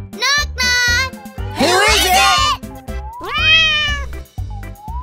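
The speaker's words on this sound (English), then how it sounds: "Kids, do you know which animal goes meow?" Cartoonish cat meows from a farm video game ring out several times between bouncy musical notes, with a child-like voice chiming in.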